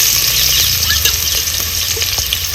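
Chopped onion sizzling loudly in well-heated oil for a spicy mutton curry, a steady close frying hiss with a few light stirring clinks and no voices.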